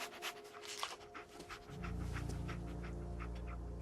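Dogmeat the dog panting in Fallout 4, soft quick rhythmic breaths close by over a low steady hum that swells partway through.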